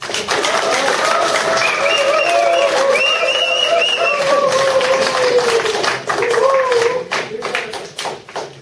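Audience at a Christmas carol event in Se세검정 parish church applauding, a dense, steady wash of clapping mixed with crowd voices and cheering that holds for several seconds before thinning out.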